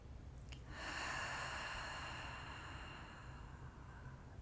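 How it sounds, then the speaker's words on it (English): One long, steady breath drawn in through the nose and let out through the mouth during a yin yoga session, soft and close, with a faint hiss that trails off after a few seconds. "inhale through your nose. Exhale through your mouth."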